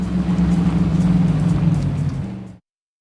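A car in The Saboteur video game drives steadily, its engine a loud continuous hum with a strong low drone that holds for about two and a half seconds before cutting off abruptly to silence.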